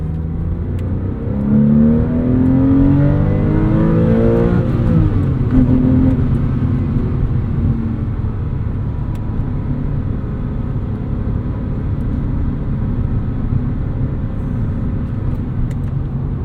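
A 2002 Porsche 911 pulls hard under acceleration, its engine note climbing through the revs in a steady rising drone, then settling into a loud, sustained rumble and road roar from inside the car.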